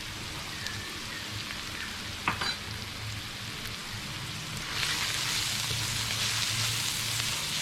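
Roasted ground spices and turmeric toasting in a pan, a soft steady sizzle and crackle with a brief stirring knock, the frying growing louder and hissier toward the end.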